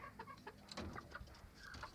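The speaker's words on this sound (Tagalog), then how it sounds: "Yung mga baying manok" Several native chickens cluck softly in short, scattered bursts, faint and somewhat distant, with no talking.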